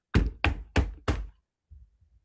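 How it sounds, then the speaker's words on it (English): Four loud, heavy knocks on a door land in an even, quick rhythm, followed by a couple of faint low thuds. "there was a knock on the door, a very loud knock"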